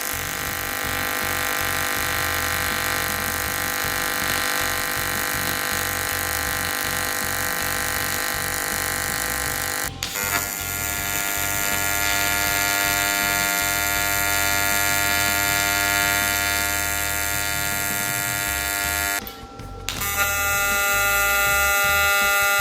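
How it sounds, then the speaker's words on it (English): Aluminum welding with a YesWelder machine while the frequency setting is changed, giving a loud, steady electric buzz with dense tonal whine that runs almost continuously, broken by two brief gaps where the arc stops and restarts. "Let's get some welding done and I'm gonna play with the frequency or the hertz."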